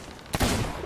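A single loud, close gunshot in the pirate video game Sea of Thieves, a sharp blast with a broad rumbling tail that carries through the rest of the brief moment, with no voices.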